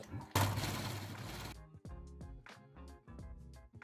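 A sewing machine runs a short burst along a shirt seam, a dense mechanical whir close up, then stops and gives way to scattered clicks and handling taps.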